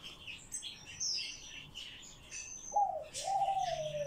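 A thrush calls nearby with bright chirps and a clear, sliding whistle in the second half, set against a quiet background with no talking.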